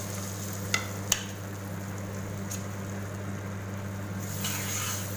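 Onion, capsicum and green chilli are added to roasted flour and fry gently in butter in a pan. A soft, even sizzle runs under a low background hum, with a couple of sharp utensil clicks near the start.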